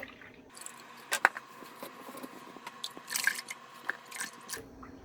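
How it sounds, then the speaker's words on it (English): Half and half from cartons poured over macaroni in a slow cooker, giving soft liquid splashes and wet squishing with a few sharper drips and clicks, close and fairly quiet, no talk. "So the first thing to do is we pour in both cartons of half and half."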